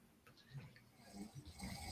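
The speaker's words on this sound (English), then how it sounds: "I bet if you take all the snores together and you check the frequency, they're all the same." A person snores faintly, a low rasping breath rising and falling over about two seconds in a quiet room.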